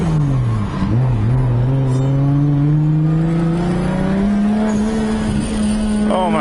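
Big-turbo 2JZ-powered Nissan 240SX drift car accelerating hard, its engine note climbing steadily through a long pull, loud and close from inside the car, with faint tire noise and speech underneath.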